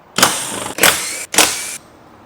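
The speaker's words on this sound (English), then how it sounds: "We're going to use a 12mm socket and take out the 5 visible bolts" A 12mm socket ratchet clicks through three quick, bright bursts while removing roof rack bolts on a Land Cruiser 250 / Lexus GX550, each burst close and crisp with short pauses between.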